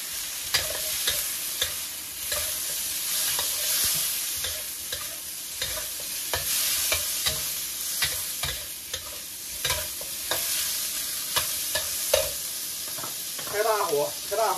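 Blanched pork with ginger and chili stir-fried in a wok over high heat, a loud continuous sizzle with rapid repeated scraping strokes of the spatula, close up, and a brief voice-like sound near the end.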